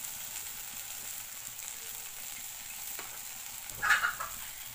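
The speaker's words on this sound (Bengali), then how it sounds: "আমি শাকটা ভেজে নিলাম" Jute leaves (pat shak) fry in a pan with a faint, steady sizzle and a soft stirring scrape near the end, with no voices.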